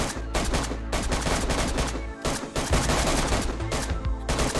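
Rapid gunfire from a team fighting zombies in DayZ: loud overlapping automatic bursts and single shots crackle continuously with only brief gaps, close and harsh.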